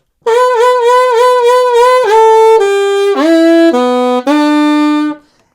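A saxophone plays a punchy rock melodic line from a song, repeating a quick note pattern before stepping down through longer held notes, loud and close.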